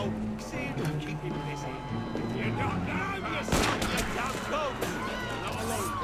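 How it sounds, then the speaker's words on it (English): Gunfire aimed at Arno in the video game Assassin's Creed Unity rings out amid a dense, busy game soundscape of shouting voices and crowd noise, with a louder crack near the middle of the stretch. "I'm being shot at."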